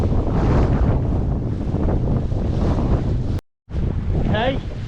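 Strong wind buffets a sailing boat on a shakedown sail as building waves slap the hull. The result is a loud, continuous roar of wind and water, broken by a brief dropout near the end.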